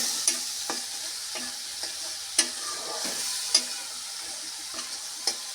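Chili powder and spices are stirred while frying for a prawn malai curry, with a steady bright sizzle. Spaced spoon scrapes against the pan land roughly every half second to second, close and alone.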